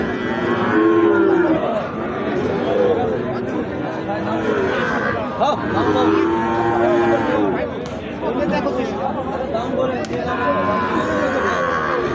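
Sahiwal bull calves low and moo repeatedly at a busy cattle market in Ambari, their calls rising over steady crowd chatter and voices nearby.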